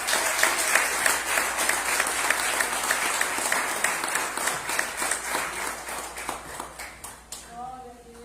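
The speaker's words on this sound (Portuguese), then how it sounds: "Uma salva de palmas para o Senhor." A church congregation applauds during a Portuguese-language worship service, sustained rhythmic clapping from many people that gradually fades near the end as a voice begins speaking.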